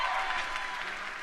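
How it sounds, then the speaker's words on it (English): Audience applause for the stage crew at a Guild Wars 2 announcement event, a steady, dense wash of clapping at moderate level for just over a second, with no talk over it. "Round of applause for your stage crew,"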